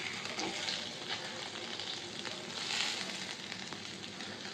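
Fish shallow-frying until crisp in hot oil, a steady close sizzle with dense crackling and a few louder spits, continuous throughout with no talking.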